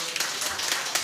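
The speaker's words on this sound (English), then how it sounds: "Give the teams another round of applause" An audience applauds the teams after a debate between the Ministry of Foreign Affairs and Foreign Trade and National Environment & Planning. Dense, steady clapping fills the moment, fairly close, with no voices over it.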